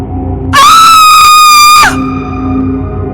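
A woman's loud, piercing scream as a horror-story sound effect, one sustained shriek of a bit over a second that cuts off sharply, with a quieter tone lingering afterward.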